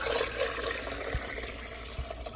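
Water poured into a pot of albóndigas meatball soup, a soft continuous splashing and trickling with a couple of low thuds, fairly quiet and heard alone.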